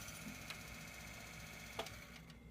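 Inside a PC, a CPU fan whirs faintly and steadily as it brushes against loose cords, with a few soft ticking knocks scattered through the hum.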